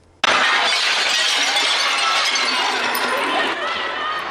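Glass shatters as protesters smash into luxury stores in Soho, Manhattan, during the George Floyd protests: a loud, sustained breaking crash that starts abruptly and rolls on for about four seconds, with voices mixed in.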